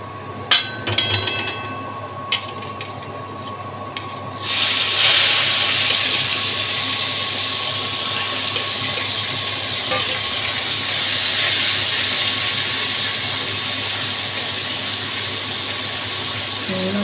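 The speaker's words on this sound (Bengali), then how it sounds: "চিংড়ি মাছটা ভেজে নেব।" Prawns frying in hot oil, with a few brief clatters followed by a loud, continuous sizzling hiss that rises suddenly and holds steady.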